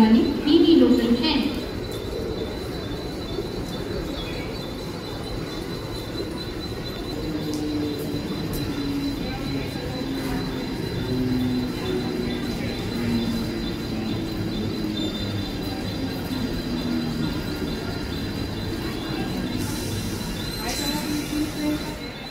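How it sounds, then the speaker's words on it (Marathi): A Mumbai local train, the 10:04 to Kalyan, arrives at platform 1 of Vikhroli railway station with a continuous loud rumble and grinding wheel squeal. A station announcement and platform voices run beneath it. "प्लेटफॉर्म क्रमांक 1 पर आई हुई लोकल 10:04 की कल्याण जाने वाली ही लोकल है।"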